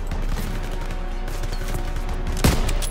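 Sustained gunfire and explosions from a World War II battle in the Call of Duty WWII video game, dense and continuous throughout with a heavier blast near the end.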